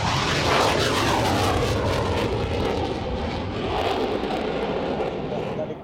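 Avro Vulcan XH558 bomber at an air show, its jet engines roaring loud and close in a sustained rumbling blast with shifting whine as it passes.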